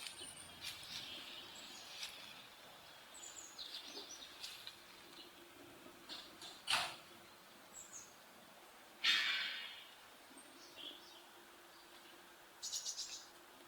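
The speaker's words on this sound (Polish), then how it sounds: "i zaczynają ćwierkać ptaki" Birds chirp in a garden after an August storm, with sparse bright tweets and a few louder close calls scattered over a quiet, faintly hissing background.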